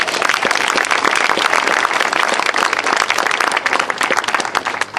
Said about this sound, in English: And please give him a particular round of applause.